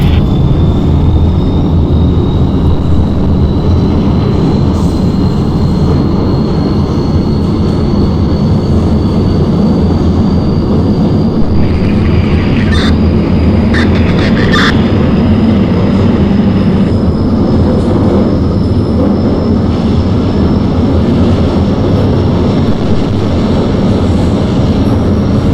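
A New York City subway 2 train running toward 241st Street–Wakefield, loud steady rumble and roar of the car at close range, with a thin rising whine and a few brief metallic squeals midway, no talk.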